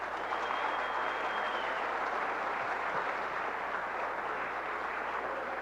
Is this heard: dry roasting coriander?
no